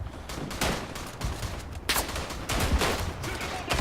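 Rifle gunfire in the WWI shooter Verdun on the Argonne map, a string of sharp cracks roughly every half second to second over a steady battlefield din, with more distant shots mixed in.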